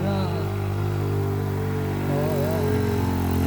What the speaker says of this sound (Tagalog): Ayan, umakyat ng motor.